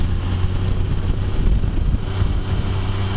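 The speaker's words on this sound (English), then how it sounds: "Crazy wind, though." Strong, stiff wind on a mild 74-degree day during a Sunday ride roars steadily and buffets the microphone, giving a constant low rumble with no speech.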